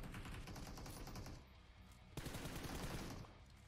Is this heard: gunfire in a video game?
yes